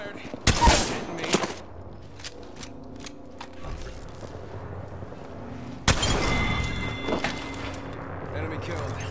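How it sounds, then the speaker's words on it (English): Gunshots in a video game: two loud, sharp bursts of gunfire separated by a few seconds over steady game background noise, with voices talking during the clip. "Shot fired."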